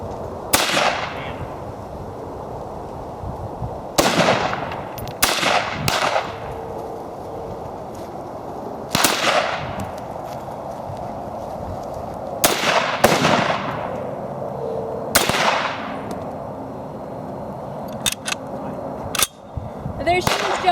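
A WWII M1 Carbine rifle fires at an outdoor shooting range, a series of sharp, loud cracks, some in quick pairs, spaced irregularly with echoing decays between shots.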